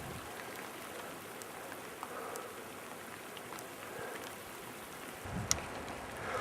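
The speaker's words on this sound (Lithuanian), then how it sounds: "Ir dar lietus prasidėjo" Steady patter of rain on a surface in the mountains, even and close, with a slight rustle near the end and no voices.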